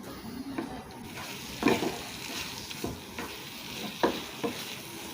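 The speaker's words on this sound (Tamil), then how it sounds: "இந்த வெங்காயம், இந்த மசாலா, இந்த முட்டை எல்லாம் ஒன்றா சேர்ந்து வர அளவுக்கு நல்லா மிக்ஸ் பண்ணிக்கோங்க" Onion, masala and egg are stirred together in a pan, a soft sizzle running underneath while the spoon scrapes at irregular intervals, fairly quiet overall.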